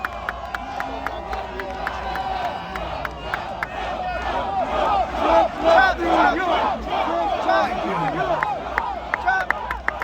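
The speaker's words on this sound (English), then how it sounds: "What a crowd!" Dense rally crowd in the Bronx, New York City, cheering and shouting for Donald Trump at a 2024 campaign event, a loud sustained roar swelling in the middle with scattered chants and claps throughout.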